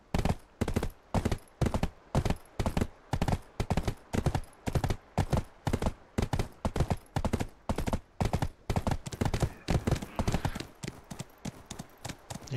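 Rhythmic clip-clop of a horse's hooves in the online role-playing game Black Desert Online comes as a steady, loud trot of evenly spaced hoofbeats that carries on with little pause.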